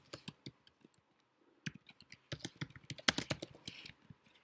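Code being typed on a computer keyboard to write a first Node.js program in app.js, with irregular bursts of close, crisp keystrokes that pause and then speed up into a busier run.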